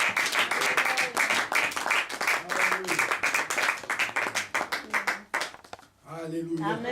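A church congregation applauds and cheers together, a dense, loud wash of clapping running for several seconds before fading, with a voice speaking over the end.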